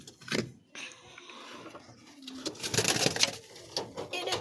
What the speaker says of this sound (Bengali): এবারে ছেড়ে দেবো একটা করে পায়রা।